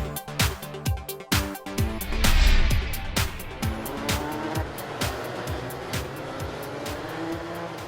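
Superkarts racing at Croft in the British Superkart championship, engines screaming close by with sharp rising and falling whines as several karts pass in quick succession, loud and alone with no voices.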